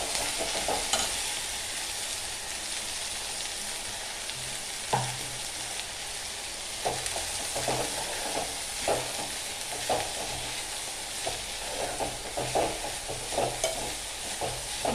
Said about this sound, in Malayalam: ഇനി ഇതിലേക്ക് സവാള ഇട്ട് കൊടുക്കുക